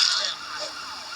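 A police siren in the GTA video game wails briefly and close, sweeping in pitch, with a voice speaking faintly underneath.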